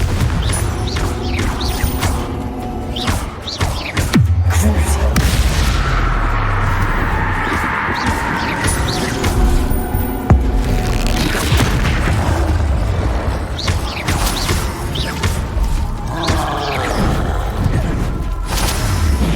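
Confringo fire spells explode over and over in the Hogwarts Legacy video game, a dense, loud run of booming blasts and thuds layered with game effects and music that goes on throughout.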